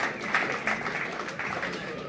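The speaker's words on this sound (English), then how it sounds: "Big hand of applause for everyone who was listening." Audience clapping after a mining company presentation on bauxite, a modest, fairly even patter of hands with some crowd murmur mixed in.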